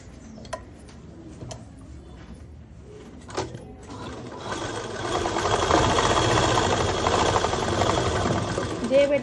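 Sewing machine stitching a school uniform skirt: a few clicks and brief mechanical bursts, then a steady, loud whirring run of stitching from the middle to the end, with talk at the start.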